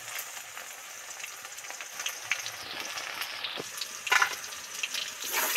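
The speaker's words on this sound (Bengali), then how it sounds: "ঢেঁড়সগুলো তো ডিপ ফ্রাই করে ভেজে নিলাম" Okra deep-frying in hot oil, then being lifted out, makes a faint, continuous hiss. Light scraping and bubbling bursts sit on top, and no one speaks.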